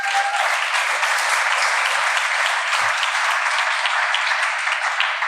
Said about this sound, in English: Can we get a round of applause for everybody help make this happen?